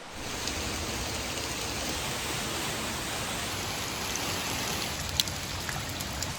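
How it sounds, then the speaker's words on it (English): A tall waterfall above the village of Iseltwald in the Swiss Alps gives a steady, even rushing roar, heard at a moderate distance and fairly soft, with no talk. "This is the second waterfall of our 3 waterfalls hike."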